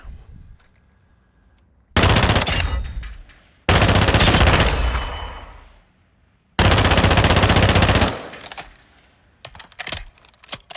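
Rapid, loud bursts of automatic fire from an FR Avancer assault rifle in a video game, three long sustained volleys with short gaps, trailing into scattered clicks and clatter at the end.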